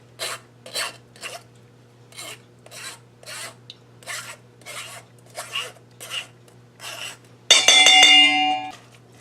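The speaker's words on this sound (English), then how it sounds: "it sticks to the strainer, the thicker stuff. So you just scrape it off" Thick chili pulp scraped off a strainer for homemade sriracha, a series of about a dozen rhythmic rasping strokes, close and clear, ending in a longer, louder grinding scrape.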